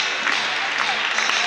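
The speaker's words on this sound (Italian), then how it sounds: "tutti i ragazzi delle due squadre ricevono gli applausi in mezzo al campo" Applause for two handball teams gathered mid-court after a drawn Serie A Gold match, a steady, dense wash of clapping from a crowd filling the hall, even and sustained throughout.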